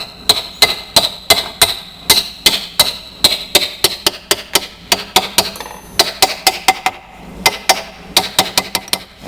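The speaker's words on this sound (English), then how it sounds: "Now you need to take your hammer and gently tap" Hammer tapping on a Troy-Bilt transmission part during reassembly, a long run of sharp, evenly spaced metallic knocks, close and clear, with a brief pause partway through before the tapping resumes.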